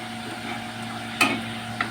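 Cumin seeds fry in hot oil in a pan as a tempering for bottle gourd dal, giving a soft, steady sizzle close by, with a sharp stirring scrape partway through and a smaller one near the end.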